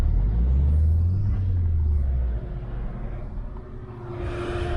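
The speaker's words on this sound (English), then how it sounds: "The idle's very, very low." A 1.8T car engine idles very low, a deep close rumble that is strongest at first, then drops and steadies before a higher hiss rises near the end. No one speaks.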